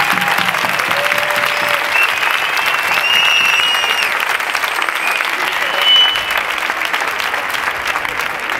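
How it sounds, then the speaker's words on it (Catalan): A crowd at a 15M movement public assembly in Terrassa applauds loudly and continuously, dense clapping holding steady for several seconds with faint cheers mixed in. "donar-vos un fort aplaudiment a tots i a totes"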